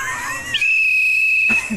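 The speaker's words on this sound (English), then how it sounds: "Marcel, can you get him to blow the whistle?" A referee-style whistle is blown once in a single sustained shrill blast lasting about a second, loud and close, with brief background noise before and after.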